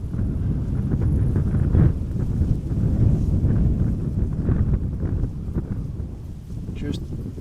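Wind buffets a camera microphone on a tripod outdoors at Amsterdam Schiphol Airport, a steady, loud, low rumble that swells and dips throughout, with a faint higher tone near the end.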